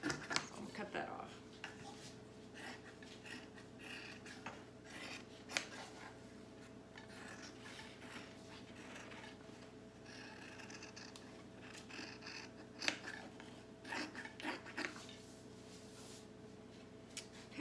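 Scissors snipping through fabric while cutting out a kids and ladies high-low shirt pattern on the fold, a run of soft, irregular close-up cuts and rustles with brief louder snips, under an ongoing steady background hum.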